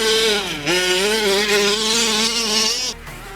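A 30 Degrees North RC car's engine runs at a high, buzzing whine for about three seconds. The pitch stays steady with slight revving wobbles, then it drops off abruptly near the end.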